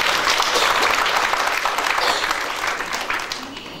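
A church congregation applauds together in a loud, dense wash of clapping that holds steady and then slowly tapers off toward the end.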